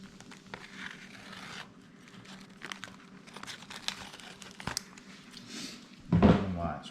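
A plastic vacuum seal bag that held white-tailed deer ribs is cut open at the seam, giving close crinkling and rustling plastic over a low hum, with a louder tearing crunch near the end.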